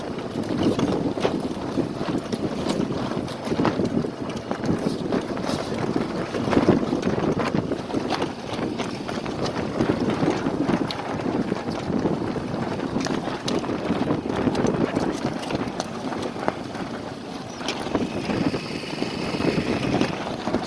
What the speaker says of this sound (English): So we did prove we can sail into the wind, but I don't like that much wind.